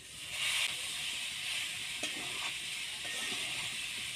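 Drained pasta fries in a pan with tomatoes and chopped green chillies, a steady close sizzling hiss with a few faint scraping stirs, no talking.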